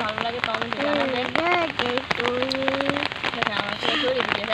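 Morning rain falls steadily on surfaces outdoors, a constant patter throughout, with a person talking and exclaiming over it at close range.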